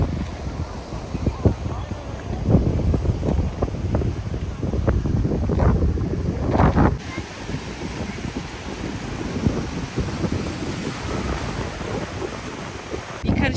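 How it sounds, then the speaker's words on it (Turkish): Strong wind buffets the microphone on a Black Sea coast trip, a loud rumbling roar with gusts throughout, and a voice talks under it. "Çok rüzgar var ama."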